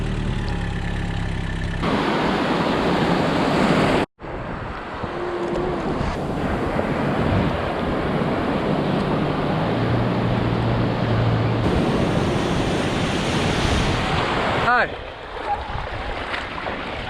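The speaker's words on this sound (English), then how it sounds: "A little wave out there." Surf rolling onto the shore at Boat Harbour, Kurnell, a steady broadband wash under gusty wind buffeting the microphone, with a brief dropout partway and occasional voices nearby.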